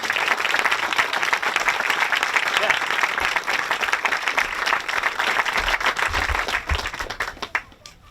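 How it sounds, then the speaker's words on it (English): An audience at a trail-group community event applauds for the volunteers, sustained full clapping from many people that tapers off near the end, with some voices mixed in. "let's give Pat and for all the volunteers of the Friends a great round of applause for organizing this event"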